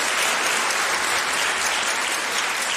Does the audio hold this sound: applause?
yes